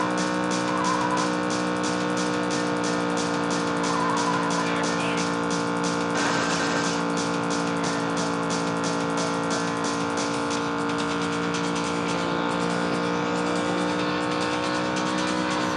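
Race car engine in San Francisco Rush Alcatraz Edition, a steady droning game engine sound held loud throughout with a brief burst around the middle, mixed with game music.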